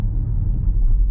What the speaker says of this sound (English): you can turn off the propulsion sound, and now you see you only have like the standard sound of electric car